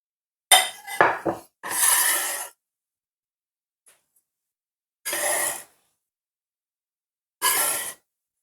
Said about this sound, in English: I'm going to put them in this bowl.